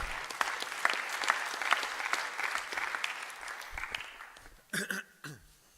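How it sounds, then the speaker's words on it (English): An audience at a morning conference talk claps steadily to welcome a speaker on stage; the applause fades out after about four seconds, followed by a couple of brief coughs or throat sounds. "A big round of applause."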